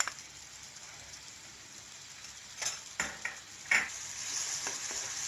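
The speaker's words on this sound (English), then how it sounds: "Now add the 2 tablespoons of butter" Butter heating in a hot kadai on a stove for a homemade veg pizza, a faint steady sizzle broken by a few sharp clinks and scrapes of a utensil against the pan.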